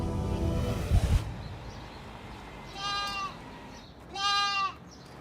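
An injured baby lamb recovering at a vet clinic bleats twice in clear, wavering cries, the second louder and longer, after a low rumbling handling noise at the start.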